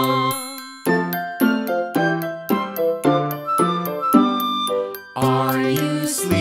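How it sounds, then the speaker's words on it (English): Bell-like chimes ring out in a children's nursery song about morning bells, a series of bright tinkling and ding-dong tones in a steady rhythm, loud and close with melodic accompaniment and no speech. "Brother John, morning bells are ringing, morning bells are ringing, ding, ding, dong"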